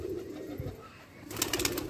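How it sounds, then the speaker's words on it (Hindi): Pigeons coo in low repeated throaty phrases at close range, with a few sharp higher clicks and rustles toward the end; no one speaks. "बहुत अच्छे उड़ान किए कबूतर"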